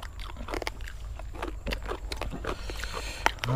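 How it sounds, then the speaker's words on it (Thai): Crunchy oven-roasted rat is bitten and chewed up close, with repeated crisp crackling bites and wet chewing in an irregular rhythm and no talking. "ทั้งกรอบทั้งร้อนสุดยอด"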